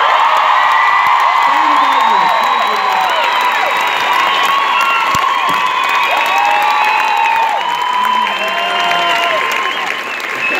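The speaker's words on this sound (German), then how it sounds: "bitte einen fetten Applaus" Loud, sustained applause and cheering from a large crowd at a gold record award show on the Loreley stage, with whoops and shouts over steady clapping throughout.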